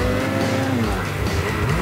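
A snowmobile engine revs hard during a wheelie in the Newfoundland backcountry, a loud, close whine rising and falling over about two seconds, with no talking.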